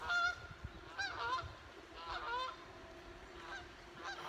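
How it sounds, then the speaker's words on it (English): Several geese honk in a loose series of calls at moderate distance, heard outdoors on a morning walk with a low ambient rumble beneath. "comes some geese."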